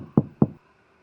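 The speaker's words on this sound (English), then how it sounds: "I heard a knock at the door" Two firm knocks on a door, close and loud, a short evenly spaced pair followed by silence, used as a horror story sound effect.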